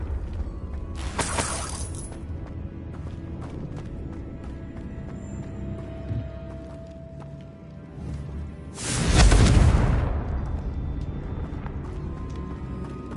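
The Confringo explosive spell goes off in Hogwarts Legacy, with a short sharp blast early on and then a louder, fuller explosion with a rumbling tail a few seconds later, over low game ambience and no talking.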